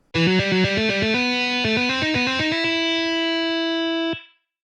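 A string of smoothly connected legato notes on a distorted, guitar-like tone, stepping up and down before one long held note rings out and cuts off.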